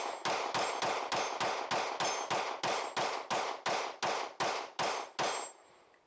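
A pistol fires round after round in a steady rapid string of about fifteen loud, sharp shots, each ringing briefly before the next, ending with a final shot and a fading tail.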